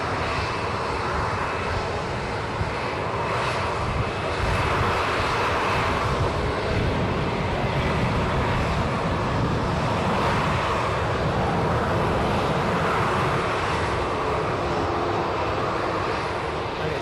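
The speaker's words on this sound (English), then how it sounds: "It's a Cessna 680A citation latitude, country of registration Portugal, and it is a NetJet Europe aircraft." A Cessna 680A Citation Latitude business jet operated by NetJets Europe rumbles steadily at Edinburgh airport, a continuous broadband engine roar holding at even loudness throughout with no talk over it.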